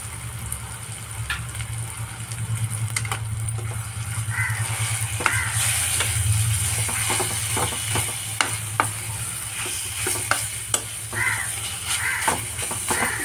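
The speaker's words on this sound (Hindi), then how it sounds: "इसी में मैं डाल रही हूँ ये कीमा" Minced keema fries in a pan with a steady sizzle while a utensil scrapes and clicks against the metal as the meat is stirred, with sharper taps near the end.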